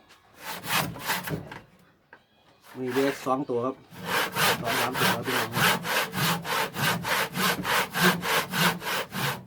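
Hand saw cutting through wood while building a phin, a Thai lute, in quick, rhythmic back-and-forth strokes, close and loud, with someone briefly speaking during a short pause early on.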